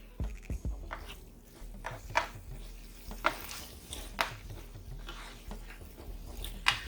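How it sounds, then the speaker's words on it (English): Ground turkey taco mixture being stirred in a hot skillet, with a soft steady sizzle and scraping spoon strokes recurring every second or so, close and quiet. "I just constantly stir it to make sure nothing's drying out"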